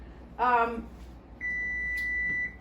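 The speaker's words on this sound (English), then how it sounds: "that's my timer." A kitchen cooking timer gives one sustained electronic beep lasting about a second, steady and fairly loud, following a brief burst of a person speaking.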